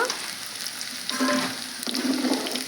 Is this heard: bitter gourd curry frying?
yes